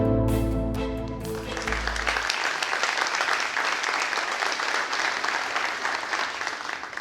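A city audience at a State of the City address breaks into steady, dense applause after a brief musical chord fades, the clapping filling the room evenly and continuing throughout.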